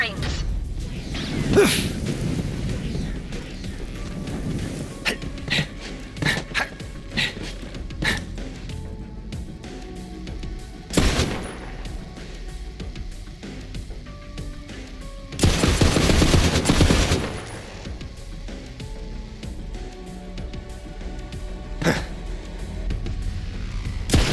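Gunfire in the Borderlands 3 video game: repeated bursts of automatic shots and single blasts over a busy game soundscape, with a louder sustained barrage near the end and voices at times.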